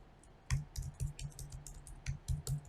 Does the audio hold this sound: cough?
no